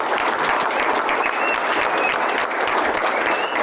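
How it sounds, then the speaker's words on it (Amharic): A studio audience applauds the winners of a quiz game, with dense, steady clapping that stays close and loud throughout and faint voices mixed in. "አጨብጭቡላቸው።"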